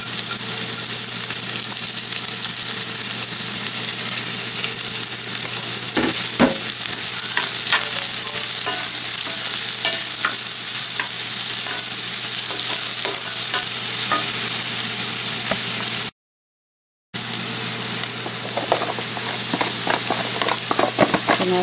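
Onion sizzles steadily in a hot pan while being stirred, a loud continuous frying hiss with occasional scraping clicks, briefly cut to silence near the end.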